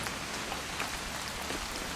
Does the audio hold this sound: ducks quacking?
no